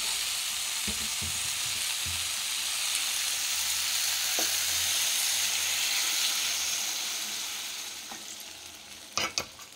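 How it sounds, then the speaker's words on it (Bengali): Water poured into a hot pan of cauliflower and potato curry sets off a loud, continuous hissing sizzle that swells and then gradually fades, with a few sharp utensil knocks near the end. "একটু সেদ্ধ করার জন্য একটু জল দিয়ে দিলাম"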